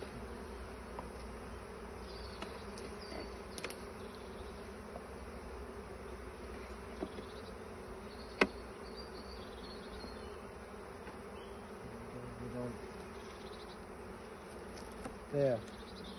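Bees humming steadily around an open hive during a shook swarm in an apiary, a continuous even drone throughout, with a few faint knocks and clicks from handling the frames.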